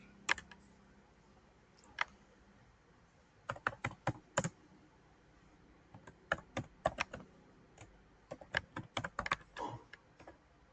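Keystrokes on a computer keyboard while SQL is entered for a hospital database, coming in irregular bursts of crisp clicks with short pauses between them and no talking.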